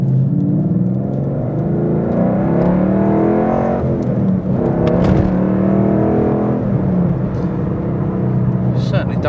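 A 2011–14 Ford Mustang 5.0 V8 with detected misfires accelerates hard, its loud engine note rising and holding steadily for several seconds, close by, with a passing whoosh midway.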